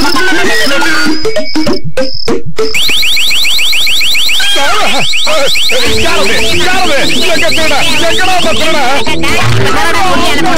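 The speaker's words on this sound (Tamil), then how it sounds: "இதுல சத்தமா அலாரம் அடிக்கும்" A loud electronic alarm rings in a cartoon, rapid repeating warbling bursts that blare over chirping, cricket-like effects, with excited cartoon voices talking over it.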